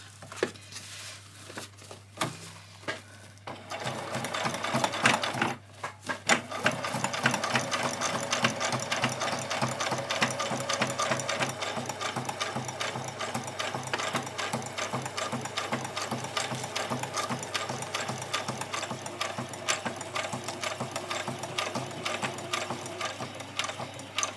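Sewing machine stitching fabric fairy wings, starting with a few short stops and back stitches, then running in a fast, continuous mechanical chatter with a steady low hum, close and clear.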